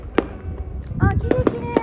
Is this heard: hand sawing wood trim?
no